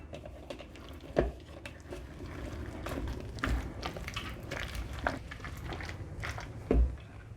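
A spoon stirs potato salad with sour cream and spices in a bowl, giving soft wet squelches and light scraping with occasional louder knocks, steady and close.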